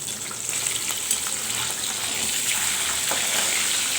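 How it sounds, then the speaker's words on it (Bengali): Fish fries in a pan with a dense, steady hiss and sizzle at close range, continuous and fairly loud for the whole stretch, with no voices. "এখানে মাছ ভাজা হচ্ছে"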